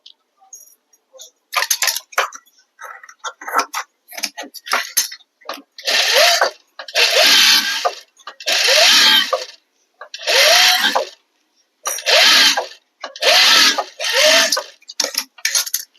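Sewing machine stitching the neck of a chudidar, with repeated short runs of loud, close mechanical whirring separated by pauses, preceded by scattered smaller clicks and handling sounds.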